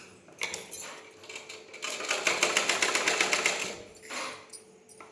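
Sewing machine stitching lining fabric, running in short bursts with a longer steady rapid whir in the middle, close and fairly loud, with small mechanical clicks between runs.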